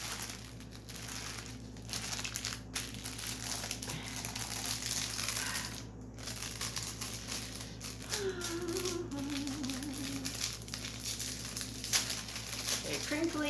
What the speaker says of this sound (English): Okay, crinkling.